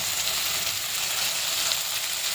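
Finely chopped onion and tomato with a little coriander frying in a pan, a steady close sizzle with no talking, running evenly throughout.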